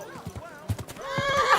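A horse in Kingdom Come: Deliverance II clops its hooves in a quick uneven rhythm and then lets out a loud neigh, close by in a game scene.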